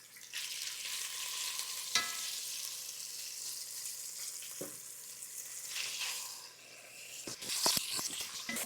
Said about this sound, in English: There's that nice sizzle.